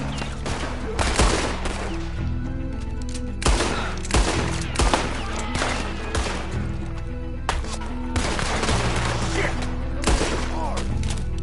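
Gunfire shootout in Red Dead Redemption 2 on PS4, with repeated loud gunshot bursts spread irregularly through the scene over a constant background bed of game sound.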